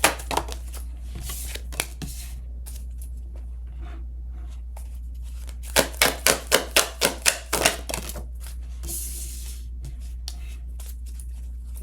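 Playing cards are shuffled with crisp papery riffles and taps, including a quick run of sharp evenly spaced snaps midway, close and clear.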